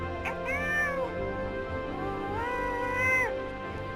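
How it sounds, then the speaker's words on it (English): A house cat meows twice, each a drawn-out, clear mewing call close by, with a short pause between them and no talk. "asked he, pointing to his cat"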